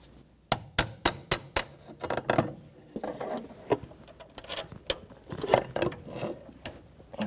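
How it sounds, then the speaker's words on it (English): A small hammer taps a bolt down into the steering joint groove while a rack and pinion assembly is replaced on a 1992-1996 Toyota Camry. A quick run of sharp metallic taps is followed by scattered, irregular knocks and clinks. "grab like a little hammer and give it a tap down a little bit"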